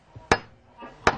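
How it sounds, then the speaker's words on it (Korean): Two sharp, loud strikes of an emergency hammer against a train window, evenly spaced with a quiet pause between them and no talk. "이 비상용 망치를 이용해서 이 빨간 점을 때려서 창문을 깨서 나가야 합니다"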